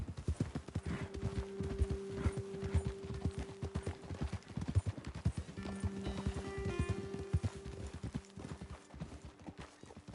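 Horses gallop in Red Dead Redemption 2, their hooves pounding in a steady, fast clip-clop rhythm, fairly close, with a brief whinny and a held tone in the background.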